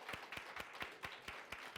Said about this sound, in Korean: 우리 아빠들 그리고 우리 남편들 우리 아버지들 응원합니다. 그런 의미에서 축복의 박수 한번 보낼까요?